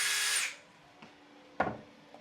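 A power drill bores holes in a wall beside a door corner, giving a short loud whir that stops, followed by a couple of brief knocks and thuds as the work settles, close and without talk.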